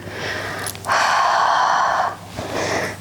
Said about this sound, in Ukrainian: Видих через рота. Ха.